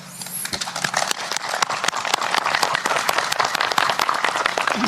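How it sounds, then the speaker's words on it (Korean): Press attendees at the joint North-South Korean announcement at Panmunjom applaud, a dense crackle of sharp individual claps that builds after a brief opening and stays lively and close throughout. "김정은 위원장에게 박수를 보냅니다."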